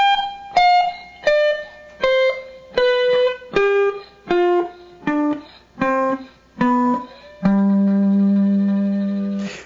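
A descending slide guitar scale of single plucked notes, about ten evenly spaced, each short and cleanly damped by thumb muting, ending on one low note left ringing.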